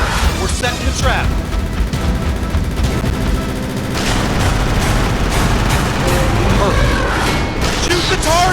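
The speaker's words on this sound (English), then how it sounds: "Shoot the targets!" Rapid gunfire from the Jurassic Park III arcade light gun game by Konami, 2001, rattles loudly in dense bursts with booms, while a game voice speaks over it.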